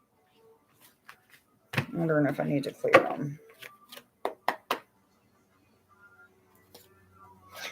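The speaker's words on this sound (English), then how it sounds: "These are not shuffling very good tonight." Tarot cards are shuffled in a series of short riffling bursts and sharp card taps, close and fairly quiet, while someone talks softly in between.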